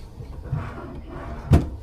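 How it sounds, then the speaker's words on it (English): Hotel room drawers at Disney's Contemporary Resort slide open, a soft low rumble followed by one sharper knock or thud near the end, close and fairly quiet with no talking. "Some drawers."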